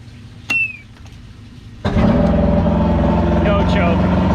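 An Evinrude V4 crossflow outboard motor, 1987–98 type with a cam follower roller replacement and no choke, cranks once and then bursts into a loud, steady running roar with no exhaust back pressure.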